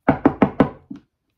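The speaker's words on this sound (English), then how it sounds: "he was rapping at the door of his nephew" Four firm, evenly spaced knocks on a door, close and loud, followed after a short pause by one softer knock, then silence.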